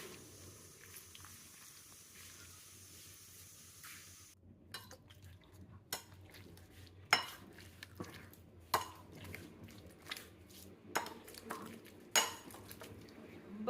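Cooked soft pumpkin mashed in a bowl, with a run of irregular clinks and soft squelching knocks of a utensil against the bowl, spaced about every second after a quieter start.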